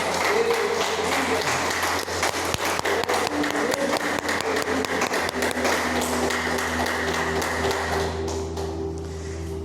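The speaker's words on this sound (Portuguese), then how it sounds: "Vamos aplaudir o Senhor por isso." Congregation applauding in church, a loud, dense burst of clapping with sharp individual claps standing out, sustained for several seconds before thinning near the end, with a low hum underneath.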